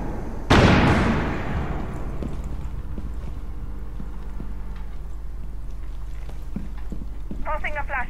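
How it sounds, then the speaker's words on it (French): A flashbang grenade goes off close and loud in a Rainbow Six Siege match, a sharp blast with a ringing decay that fades over a couple of seconds, followed by quieter game noise and brief voice chatter near the end. "Bombing flashbang."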